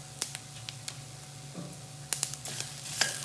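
Onion and garlic sizzling in a hot pan, a low steady fry with scattered soft clicks and taps of a stirring utensil, fairly quiet and close, without talk.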